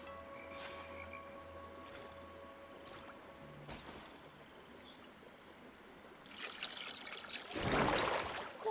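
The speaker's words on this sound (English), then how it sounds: "That must be where we need to pour the potion." Potion poured onto a stone altar in GreedFall, a soft trickling splash that swells near the end, rising over a quiet game ambience with faint tonal hums.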